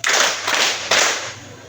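Students at a junior high school clap in unison during a counted clapping game: a few sharp group claps in quick succession, near and loud, fading at the end.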